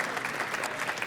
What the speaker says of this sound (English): Applause for this.